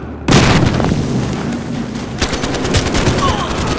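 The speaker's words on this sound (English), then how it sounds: "Oh, his grenade got me." A grenade blast and machine gun fire in the video game Battlefield Hardline: a sudden loud boom, then a dense rattle of rapid gunfire and further sharp bursts, close and harsh throughout.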